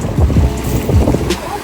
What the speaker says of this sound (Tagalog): Ang lakas ng alon kasi.